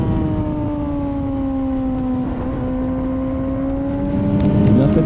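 A 2024 Honda CBR600RR engine pulls hard on a wet track, its tone rising smoothly and steadily as the revs climb, loud and close throughout.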